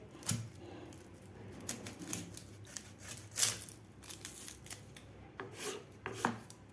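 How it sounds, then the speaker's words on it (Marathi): A white onion is sliced thinly with a knife, producing quiet, close, irregular crisp cuts and taps against a board, with no talking. "आता आपल्याला हा कांदा एकदम उभा असा पातळ पातळ कापून घ्यायचा आहे."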